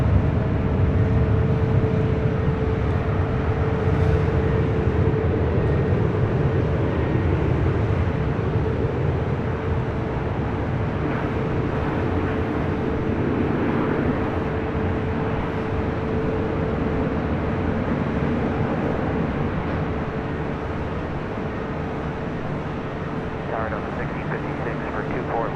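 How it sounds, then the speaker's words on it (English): Alaska SkyWest flight 3327 heading to Santa Rosa at Los Angeles Airport produces a steady, dense engine roar that holds loud throughout and eases off slightly toward the end. "So the flight cutting in line, Alaska SkyWest, flight 3327, heading to Santa Rosa"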